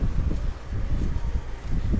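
Outdoor wind buffets the microphone in a constant low rumble that swells and dips unevenly throughout, with no clear voices over it.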